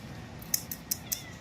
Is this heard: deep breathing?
no